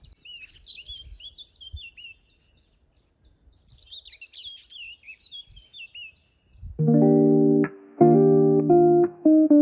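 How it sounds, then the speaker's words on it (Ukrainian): Birds chirp and warble in quick high phrases for several seconds, moderately close, before a loud sustained electronic tone cuts in and takes over. "Так гарно пташки співають."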